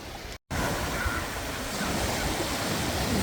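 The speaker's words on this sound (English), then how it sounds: "Waves are very choppy today, as you can see." Choppy sea waves wash steadily onto the shore at Bacton beach in Norfolk, a loud continuous roar of surf with wind buffeting the microphone and a brief dropout near the start.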